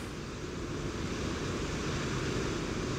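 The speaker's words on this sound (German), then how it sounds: "das Heulen des Windes" Wind roars steadily in a cold northern winter setting, a dense, continuous rushing blast that stays loud and even with no voices.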